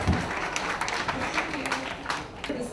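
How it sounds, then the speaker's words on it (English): An audience at a book launch claps, a dense burst of applause that stays loud and steady throughout with no distinct speech. "You can clap please for her."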